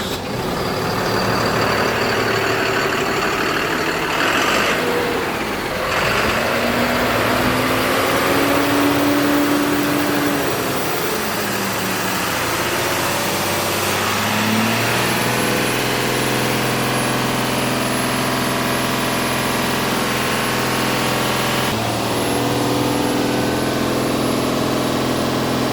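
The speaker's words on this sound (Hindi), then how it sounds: "चलिए अब इसके इंजन साउंड को सुनते हैं।" A Tata Signa 4825 diesel tipper truck engine idles steadily nearby, a constant low rumble that runs throughout, with a faint high whine joining partway through.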